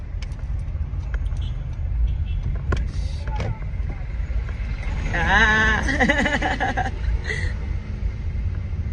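A jeepney passes in city street traffic, its engine rumble rising and falling over steady road noise from inside a car, with voices talking nearby.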